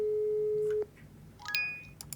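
Telephone tones in the video game Office Simulator: a steady dial tone that cuts off, then a short burst of rapid electronic beeps, clear and moderately loud with no talking.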